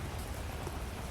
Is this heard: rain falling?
yes